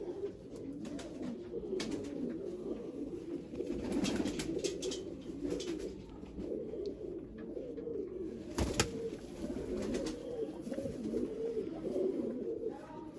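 Pigeons coo steadily in a loft in Jammu, with many birds giving overlapping low rolling calls at a moderate distance, interrupted by occasional brief clatters and wing flaps.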